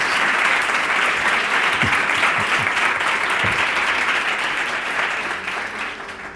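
TV studio audience applauding for a guest, a dense, steady patter of many hands that fades slightly toward the end, with a few faint low thumps partway through.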